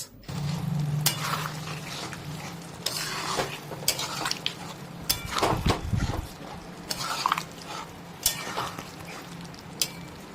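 Boiled potatoes and their cooking water stirred into a jackfruit and prawn curry in a pan, with a steady low sizzle under repeated scraping and clinking stirs throughout.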